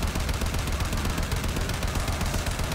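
Rapid sustained automatic fire from the Argonak rifle in the sci-fi shooter Warframe, a dense unbroken stream of loud close shots running through the whole stretch.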